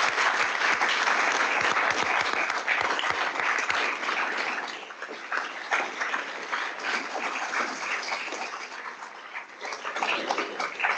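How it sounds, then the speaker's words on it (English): Applause from the audience after a League of Women Voters candidate forum for a Minnesota House district race in Winona, a full dense clapping that runs loud at first and then thins and softens. "please give our candidates a big round of applause for their effort"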